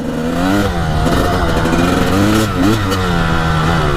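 A Honda CR250 dirt bike engine revs loudly and close, its pitch rising and falling through repeated throttle swells over a constant raspy two-stroke drone.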